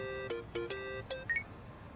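A phone call ringing in the video game Yakuza: Like a Dragon, a short series of bright electronic tonal beeps in quick succession, with a pair of higher blips at the end, fairly quiet.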